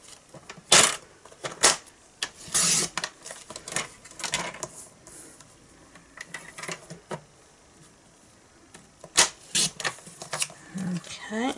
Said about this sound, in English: So now I'm just going to cut this out